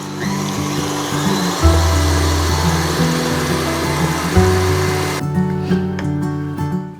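An electric mixer runs at its highest speed, whipping egg whites and sugar for mini pavlovas. Its loud, steady motor whine wavers slightly in pitch and continues alone without pause.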